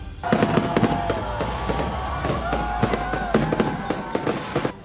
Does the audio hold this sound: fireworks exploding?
yes